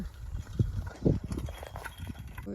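Bullock hooves clop in a village lane, a few uneven knocks standing out at moderate distance over steady low rumble and background noise.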